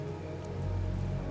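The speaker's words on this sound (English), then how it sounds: "It's raining now." Rain falling in the video game Kingdom, a steady soft patter and hiss of drops that swells slightly partway through, heard alone without any voices.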